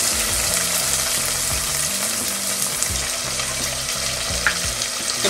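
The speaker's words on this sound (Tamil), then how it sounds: "வெங்காயம் வெங்காயம் நல்லா வதங்கட்டும்" Onions sauté in a pan with a constant loud sizzle and crackle, stirred now and then, with a low steady hum beneath and no talking.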